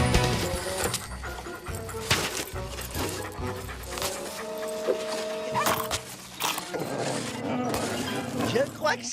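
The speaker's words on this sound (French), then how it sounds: "Gentil toutou, qui veut un bon biscuit pour chien?" A cartoon dog pants in quick, breathy bursts, mixed with music and other bright effects and broken up by short gaps.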